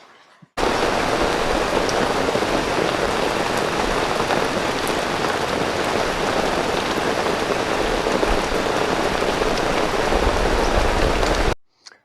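Steady, dense rain pours down during a brief summer storm, a constant loud hiss of drops on surfaces that holds unbroken for the whole stretch with no voices.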